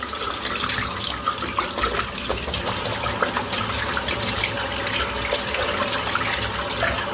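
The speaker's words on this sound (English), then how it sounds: "Rinsing the brush out." A shaving brush is rinsed under a running tap, a steady close stream of water splashing and gurgling into a sink throughout.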